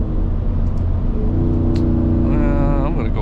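Ford F150 with a 5.0 engine pulling hard in highway traffic, a loud steady rumble with rising rev tones near the end, heard up close from inside the truck.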